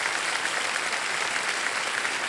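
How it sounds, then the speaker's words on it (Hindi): Steady, dense applause from a studio audience on a televised quiz show, a continuous wash of many hands clapping at an even, moderate level. "जोरदार तालियां बज जाए"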